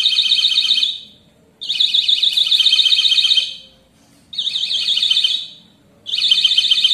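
A homemade proximity sensor alarm buzzes in bursts, a shrill warbling electronic tone sounding in four loud pulses separated by brief silences, growing more insistent as an object comes near.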